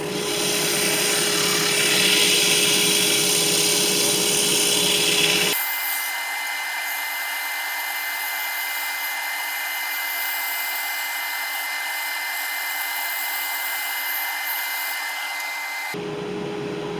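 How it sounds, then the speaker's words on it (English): A power sander whirs steadily against a wooden bowl, a loud continuous grinding hum that shifts tone partway through and keeps running to the end. "it's time for some sanding"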